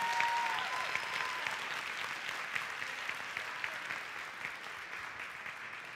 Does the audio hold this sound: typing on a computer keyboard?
no